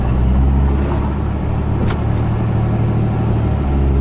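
A Cummins diesel pickup truck on a race tune pulls hard, a loud, heavy, steady engine rumble and drone from inside the cab with no break for the whole stretch.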